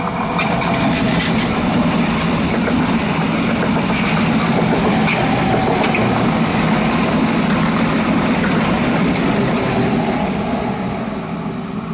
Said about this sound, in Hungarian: jön a vonat, és majd így áthalad